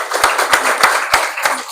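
Audience at an art exhibition opening in a gallery hall clapping, a loose, steady round of applause with distinct claps roughly every third of a second, close and fairly loud.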